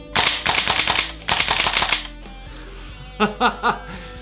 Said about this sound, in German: Also man kann schnell schießen, aber ich merke, das Magazin wird schon eisig kalt